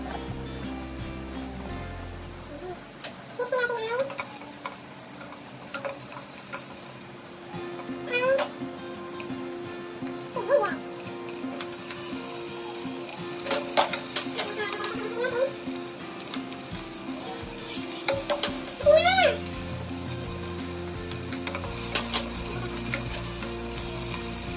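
Fresh pancit noodles are stir-fried in a pan, giving a moderate ongoing sizzle with intermittent stirring and clattering, while a few high chirpy sounds and occasional voices come and go in the background.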